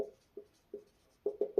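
Chalk or marker strokes on a classroom board during a Class X physics lesson: six short, faint scratchy strokes, spaced apart at first and then three quick ones in a row, with no talking.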